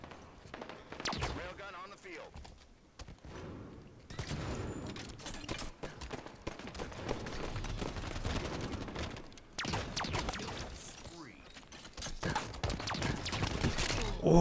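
Battle rifle gunfire crackles in bursts through a Halo 5 free-for-all match, dense and continuous with explosive impacts and game sounds filling the mix.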